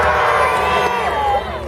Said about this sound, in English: I want you to cheer for Dave.